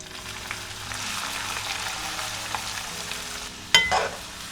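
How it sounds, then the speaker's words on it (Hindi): Onion frying in hot oil with bay leaf and cumin over high heat, a steady low sizzle that ends in one sudden loud clatter and burst of crackle. "अब हम प्याज को 2-3 मिनट तेज़ आंच में भूनेंगे"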